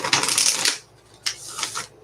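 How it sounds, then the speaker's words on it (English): Tarot cards are shuffled by hand, a dry burst of riffling and flicking that lasts about three quarters of a second and is followed by a shorter second pass, close and alone. "I'm gonna just give this a couple of shuffles, Kat, so that we can"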